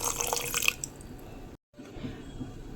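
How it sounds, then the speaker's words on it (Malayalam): Lemon juice pours into a blender jar for a Kerala-style lemonade, giving a short, bright splashing trickle with drips up front that quickly thins into quiet, followed by a brief dropout and faint room noise. "ഒരു നാരങ്ങയുടെ നീരോട് ഒഴിച്ച് കൊടുക്കാം"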